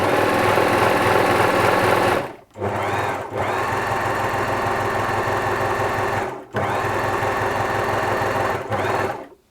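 A freshly serviced Bernette 610D serger runs at full speed with no thread, a loud, close, steady mechanical whir broken by a few brief stops before it starts up again.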